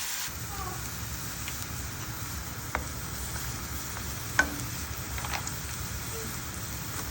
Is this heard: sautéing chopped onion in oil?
yes